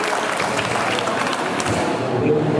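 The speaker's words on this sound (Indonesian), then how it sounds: "sekali lagi mohon tepuk tangannya untuk Pak Nyoman Widya" An indoor workshop audience applauds a presenter, a dense, steady clapping close by that fills the whole short stretch, with some crowd murmur underneath.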